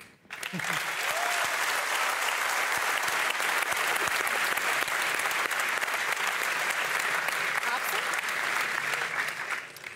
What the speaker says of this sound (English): thanks for everybody cheering